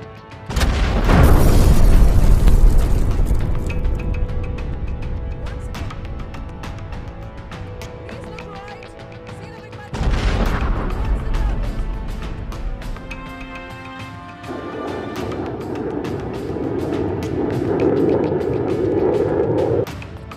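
Booming blasts from fragmentation bombs dropped in an air strike by Indian Air Force jets, two heavy detonations with long rumbling tails, loud and close, with lighter crackling debris between them.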